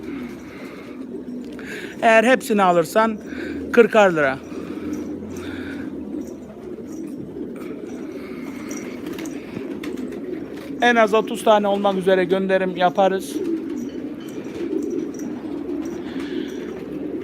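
A large flock of pigeons coos steadily in the background while someone talks loudly in two stretches, the low murmuring continuing between and under his voice.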